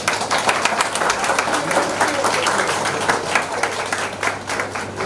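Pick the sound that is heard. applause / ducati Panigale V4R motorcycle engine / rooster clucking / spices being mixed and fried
applause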